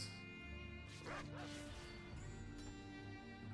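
Dog barks in a World of Warcraft pet battle, a few short yips and woofs sounding faintly within dense game music and effects, with someone talking over the action.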